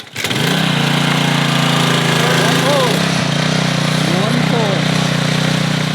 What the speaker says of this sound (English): I think this is like this is like the mower engine